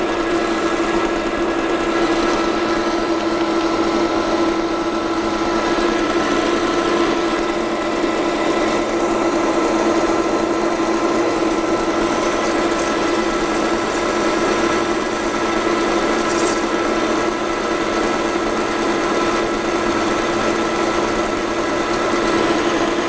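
A metal lathe in a fitting and turning workshop takes a heavy 1.43 mm cut while cutting fluid is applied, giving a steady, continuous machine drone with a constant tonal hum throughout.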